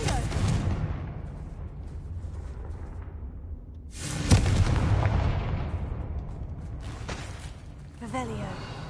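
Confringo fire spell explosions in Hogwarts Legacy, heard as a loud booming blast at the start, another big rumbling explosion midway that trails off, and a smaller burst near the end.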